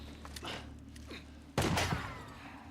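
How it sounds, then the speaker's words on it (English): Enemy gunfire in the video game Days Gone, a sudden loud burst of shots about halfway through, preceded by quieter game rumble and ambience. "Well, he's shooting at us."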